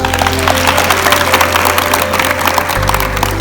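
Audience clapping at a college Independence Day program, a steady wash of applause layered with music and a low electronic hum, loud and sustained throughout.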